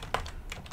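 Keys clatter on a computer keyboard as a web address is typed into a browser's address bar, a short burst of a few quick, close taps with no talking.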